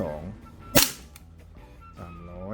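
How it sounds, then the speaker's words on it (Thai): A single sharp, loud crack of a GHK Glock 17 Gen 5 MOS gas blowback airsoft pistol with heavy recoil rings out between quiet stretches of nearby talking. "รีคอยหนักมากและเสียงดังมากครับ"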